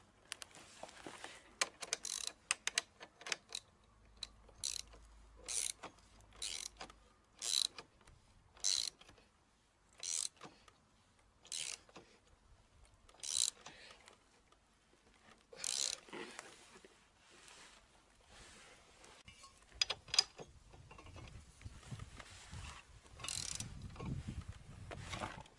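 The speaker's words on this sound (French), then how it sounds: "Je serre mon extracteur." A puller being tightened to pull a brake drum off a Citroën Traction 11, giving a series of short ratcheting clicks and creaking metal strains in irregular bursts, fairly close, with no talking.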